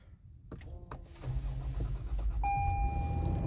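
A 2023 Toyota 4Runner engine cold-starts up close: a brief starter crank, then a rising idle rumble that settles into a steady drone while a high chime tone sounds.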